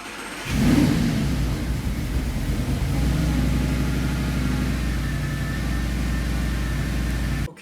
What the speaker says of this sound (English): It started the car up just fine.